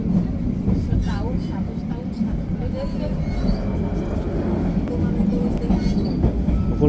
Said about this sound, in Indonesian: Pukul 5:51 kereta api Kahuripan tiba di stasiun Wates.